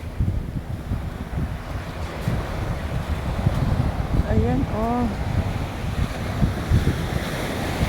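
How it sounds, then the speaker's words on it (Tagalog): Steady broadband surf and wind noise rolling throughout at a California beach, with a few short voice exclamations near the middle over the constant wash of waves. "Dami ng ganda ng alon."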